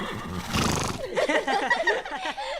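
A cartoon horse named Pepper, injured, lets out a loud, wavering neigh that warbles up and down in pitch, followed by breathy nickering and snorts, close and clear for a few seconds.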